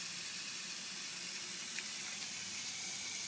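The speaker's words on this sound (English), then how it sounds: "you will now see the water activate" Water from an automatic plant watering system runs in a steady, quiet hiss that holds even and unbroken the whole time.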